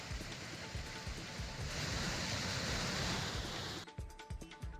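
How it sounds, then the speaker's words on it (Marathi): Water gushing from a leaking irrigation canal, its rubber seal broken, letting out a steady loud rushing roar that holds throughout, with a choppier, splashier stretch near the end. "उजनीच्या उजव्या कालव्याला गळती लागली आहे, त्यामुळे कालव्यातील लाखो लिटर पाणी वाया जात आहे।"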